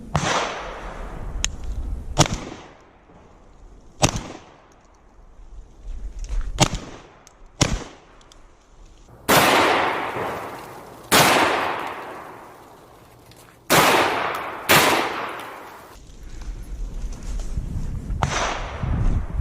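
A Benelli M4 shotgun fires shell after shell, about ten sharp, loud blasts at uneven intervals, each with a ringing echo that fades before the next shot, with no talking.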